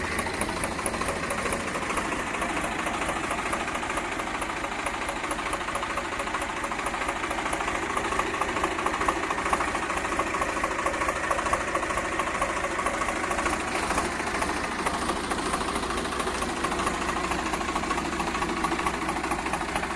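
A Massey Ferguson 1035 self-start tractor, one owner and in original condition, runs its diesel engine at idle: a steady, close, unbroken mechanical rumble with a fine rapid knock throughout, and no voices.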